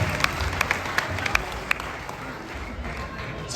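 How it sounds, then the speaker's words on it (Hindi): An audience at an Urdu mushaira applauds to welcome a poet. A few scattered close claps rise over a crowd murmur, and a voice can be heard. "तालियों से अगर इस्तकबाल करेंगे तो उनका जी अच्छा लगेगा"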